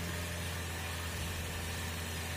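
Toyota Vios third-generation sedan engine idling steadily after intake manifold cleaning, a continuous low hum with broadband hiss throughout, close and even.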